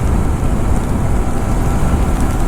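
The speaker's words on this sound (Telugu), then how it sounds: "వర్షం అయితే కొడుతుంది." Heavy rain falls steadily as a dense, continuous roar, loud and close throughout, on a rainy road near Komaravelli with no voices present.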